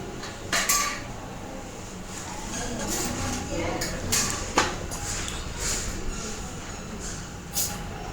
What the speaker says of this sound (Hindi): तो बस मैं जल्दी जल्दी से बर्तनों को जमा लेती हूँ।